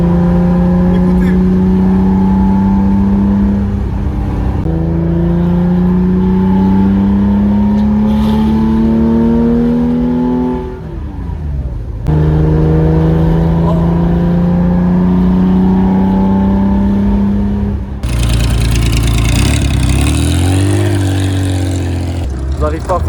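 A Porsche 914-6 with its six-cylinder engine revs hard while driving on a rally, pulling up through the gears with rising pitch, a brief lift around the middle, then a loud closing burst of revs, continuous and close.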